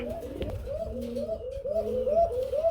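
Danish pigeons coo in a close, steady series of rolling, repeated calls, with faint background noise and a brief knock early on.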